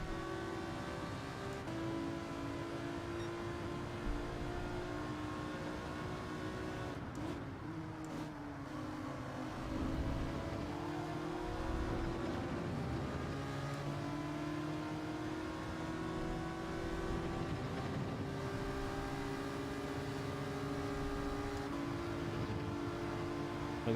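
Race car engines drone in Gran Turismo 7 while running in a GTR's slipstream, a sustained harmonic whine that rises and shifts with gear changes, steady and moderately loud, without talk.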